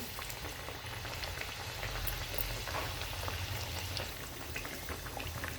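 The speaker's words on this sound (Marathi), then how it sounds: "आता कमी गॅस करू आपण आणि कमी याच्यावर तळून घेऊ" Mixed dal vadas fry in oil over low heat, a faint, even bubbling and soft crackle that stays steady and quiet for the whole stretch without any talk.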